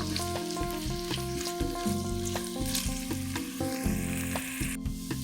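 Bacon slices sizzle and crackle in a pot with no oil, a steady hiss of frying fat running continuously, with a loud sharp clatter near the end.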